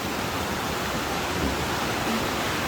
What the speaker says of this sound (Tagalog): There you go, the falls.